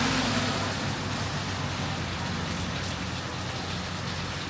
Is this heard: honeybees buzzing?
no